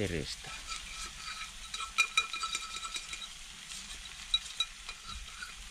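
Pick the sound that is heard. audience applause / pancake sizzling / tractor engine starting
pancake sizzling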